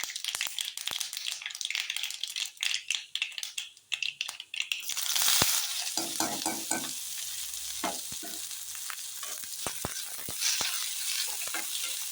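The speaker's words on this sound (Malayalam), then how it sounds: "കടുക് പൊട്ടിയ ശേഷം സബോള പൊടിയായി അരിഞ്ഞത്, കറിവേപ്പില." Chopped onion and curry leaves hit hot oil after spluttering mustard seeds for sambar, giving a loud, steady sizzle with sharp crackles and pops, stirred near the pan with no voices.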